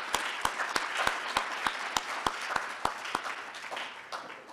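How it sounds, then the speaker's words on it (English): Audience applause at a graduation ceremony, a steady wash of many hands clapping with sharp individual claps standing out in a regular rhythm, moderately loud throughout without speech. "More clapping and celebration"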